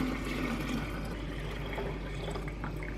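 Fresh cow's milk with a cultured starter poured into jars, giving a steady continuous splashing, gurgling fill that stays close and fairly loud for the whole stretch, with no one speaking.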